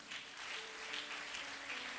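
A church congregation applauds at a sermon service, a steady, dense clapping that holds evenly for about two seconds, with faint sustained tones beneath.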